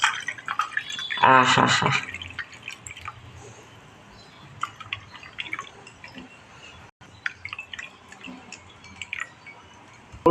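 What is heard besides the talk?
plain water poured into lemon drink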